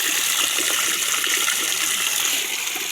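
Steady rushing water pours from a tap, a continuous broadband gush that stays loud and even from start to finish with no talking over it.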